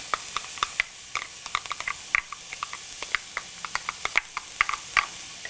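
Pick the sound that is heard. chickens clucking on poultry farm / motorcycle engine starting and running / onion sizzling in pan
onion sizzling in pan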